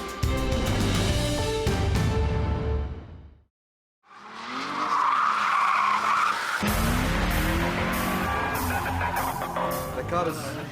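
A big-engined car drifts in Baghdad, skidding loudly with squealing tires, drops to brief silence, then roars back with engine noise and more tire screech, music-like tones underneath.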